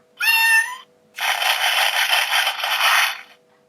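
A LEGO City toy cat from a shop-bought set gives off an electronic meow: a short harmonic cry, a brief pause, then a longer, steady scraping mew of about two seconds, close and clear with no talking.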